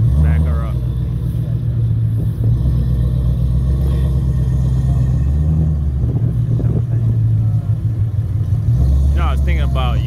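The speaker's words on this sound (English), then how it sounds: "That's a burnout." A car does a burnout at the Cecil race track in Maryland, its engine roaring steadily and loudly through the whole stretch while people talk nearby.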